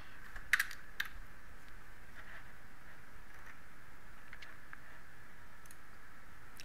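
Sparse, light keyboard clicks tapping out in short bursts, soft and close, over a faint steady background hiss.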